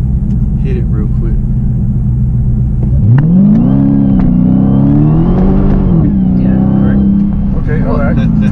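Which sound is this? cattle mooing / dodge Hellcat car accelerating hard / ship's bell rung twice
dodge Hellcat car accelerating hard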